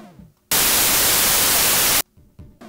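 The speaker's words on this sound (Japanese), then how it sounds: "いわゆるホワイトノイズ。" White noise generated in Adobe Audition: a loud, flat hiss that starts abruptly, holds steady for about a second and a half, and cuts off sharply, with brief speech before and after.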